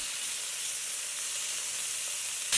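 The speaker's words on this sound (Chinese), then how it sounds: "锅内不用放油，倒入五花肉片摊匀了，稍微煎一下，" Slices of pork belly sear in a dry, oil-free pan, giving a steady, close sizzling hiss that holds evenly throughout with no talking.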